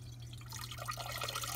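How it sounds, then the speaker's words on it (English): Water from a clogged garbage disposal sink drain flowing down into a bucket, faint trickling and dripping over a low electrical hum, growing busier partway through. "so that I can get that controlled flow of water down into my bucket"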